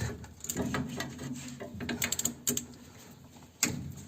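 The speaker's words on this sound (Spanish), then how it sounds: "Con los 10 vamos a aflojar los tornillos del bombín." Close metallic ratcheting and clicking of a wrench loosening 10 mm hex bolts on a car's brake wheel cylinder, in short irregular bursts with a sharp clack near the end, no talking.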